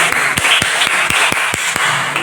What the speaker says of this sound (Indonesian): berikan tepuk tangan untuk teman kita kelompok 1